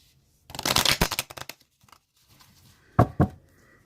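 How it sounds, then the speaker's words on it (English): A deck of Lenormand cards being shuffled up close, a riffling flurry of card slaps lasting about a second, then a pause and two sharper taps as the deck settles. "I'm going to just shuffle the Lenormand"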